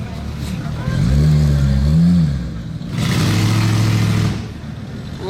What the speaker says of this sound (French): C'est un dragster.